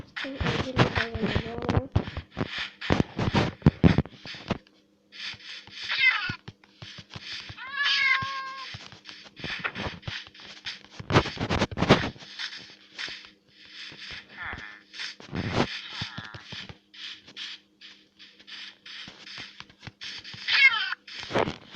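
A cat in the Minecraft video game meows repeatedly in short, separate calls scattered among bursts of game noise and quiet gaps.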